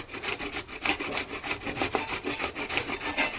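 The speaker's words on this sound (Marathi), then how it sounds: "याला असं शिलून घ्यायचं असं याला किसून घ्यायचं" A bottle gourd for kofta is rubbed back and forth against a grater in a steady, rapid, raspy rhythm, close and continuous, with no talking.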